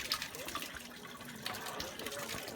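Natural stone water channel at Machu Picchu, centuries old, with water steadily flowing and splashing nearby, a continuous close gush with no talking.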